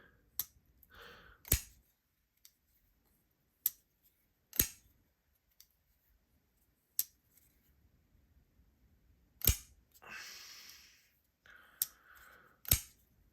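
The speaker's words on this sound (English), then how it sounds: "When this thing deploys, I don't know if you hear it, but it's got kind of a double click." Folding knife blade flicked open, its flattened detent ball giving a crisp break; sharp isolated clicks recur through a quiet room, some in quick pairs, with soft handling rustle between them.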